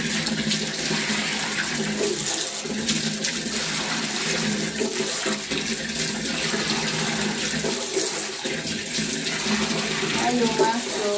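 A toilet being flushed, with a steady rush of running water that holds at an even level for about eleven seconds, close to the listener and without a break.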